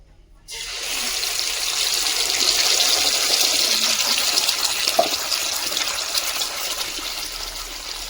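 Paste of onion, ginger, garlic, green chili and tomato hitting a hot pan for chicken kosha, giving a sudden steady hissing sizzle that starts half a second in and holds loud for the rest of the clip.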